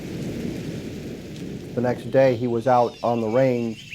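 Thunder rumbles through a storm with rain, a low, dense wash of noise that carries on beneath a voice that starts partway through.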